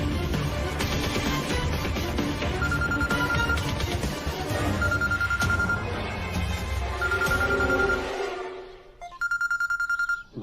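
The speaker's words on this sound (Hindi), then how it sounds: "भाईजान का फोन।" A telephone rings with an incoming call during a Hindi television drama scene, its electronic tone repeating over background music before a clearer, louder ring near the end.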